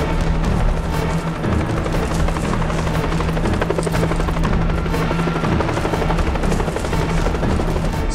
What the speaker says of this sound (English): Chopper is en route.